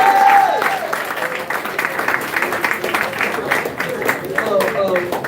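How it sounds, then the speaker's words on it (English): Clapping from an audience at a distributor training session, rising and falling in waves, with voices and cheering calls mixed in over it. "Applaud to God Almighty."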